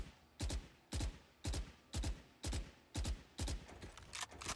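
Rifle fire sprays in Valorant, delivered as seven evenly spaced, sharp bursts of gunshots at close range, each a loud crack with a brief tail, and nothing else around them.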